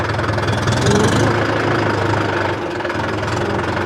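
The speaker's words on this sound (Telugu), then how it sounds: "స్టేట్ రూట్లో రివర్స్ గేర్ వేసుకున్నాం సీదా వెళ్ళిపోదాం" A tractor pulling a trolley runs in reverse gear, its engine knocking steadily and loudly up close through the whole stretch with no break or pause.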